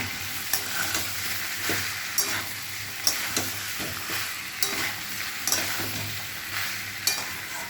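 Papaya curry cooking in a pan after water is added, a steady close sizzle and bubble with periodic scrapes and taps of a stirring spoon against the pan, no talk over it.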